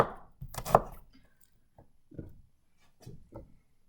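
A knife chops ingredients for chicken korma on a cutting board in a few close, sharp strokes, one loud thud followed by lighter scattered cuts.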